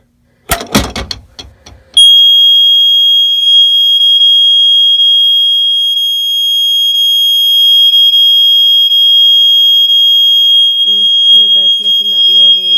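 After a few sharp knocks, a Simplex smoke detector in a bedroom fire-alarm system test sounds a loud, piercing steady electronic tone that holds for about eleven seconds, with a voice starting to talk over it near the end.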